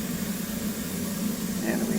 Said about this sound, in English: so we'll crank the right engine